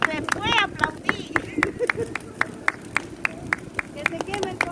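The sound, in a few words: people clapping at a San Juan bonfire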